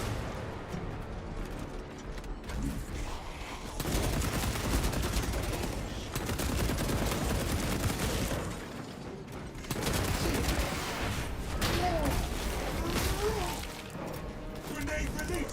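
Dense gunfire and explosive grenade blasts from the Space Marine 2 video game, sustained loud bursts of automatic fire with heavier booms, while a game character's voice speaks over the combat.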